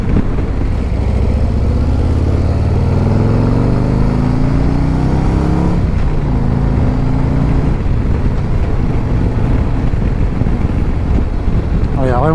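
A 2024 Harley-Davidson Road Glide engine drones loud and close while riding and overtaking, with a rising tone as it accelerates, heavy wind rush throughout, and a brief shift partway through.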